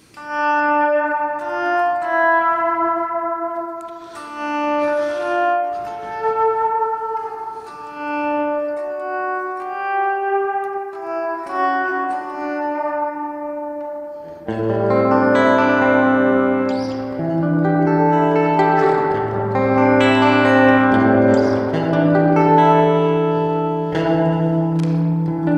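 Guitar through a Fender Tre-Verb reverb pedal with the blend turned up, sustained notes and chords washing into long ambient tails, loud and alone, swelling fuller and denser halfway through.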